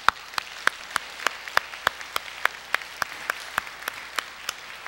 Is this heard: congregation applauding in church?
yes